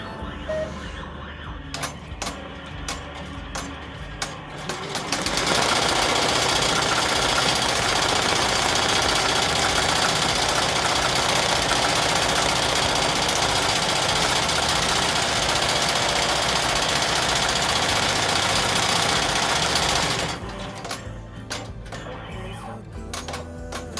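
Embroidery machine stitching a placement tack-down on fabric, a steady loud mechanical whir with dense rapid stitching running for about fifteen seconds, framed by quieter background noise before and after.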